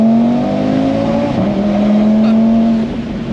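A Stage 1 Audi RS3 with all-wheel drive accelerates hard in third gear, its engine droning loud and close with a steadily climbing tone and a short dip mid-pull.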